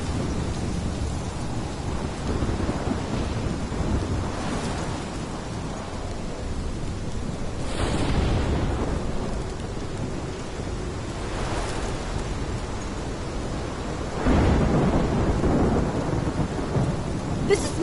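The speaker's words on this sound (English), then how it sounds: "This is my storm!" Steady heavy rain pours in the video game Life is Strange while several rolls of thunder swell and fade, one louder crack near the end, with no voices.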